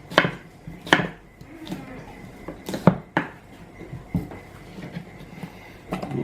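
A knife slicing tuna into even pieces for sashimi on a cutting board, giving a handful of sharp, irregular chopping knocks at close range with quiet pauses between them.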